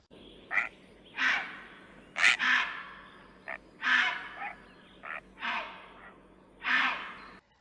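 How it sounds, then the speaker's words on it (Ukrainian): Harsh, croaking heron calls repeat at irregular intervals, about eight rasping squawks with short quiet pauses, clear and fairly close. "Це чапля, дуже впізнаваний птах."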